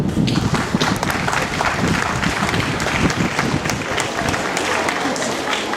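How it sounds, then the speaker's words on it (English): Audience at a Kathakalakshepam performance breaks into steady, dense clapping that stays loud throughout, with crowd murmur mixed in. "You are supposed to clap here."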